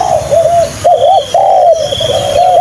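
A junglefowl calls close by with repeated warbling coos in short phrases, loud against a quiet outdoor background with a faint high tone.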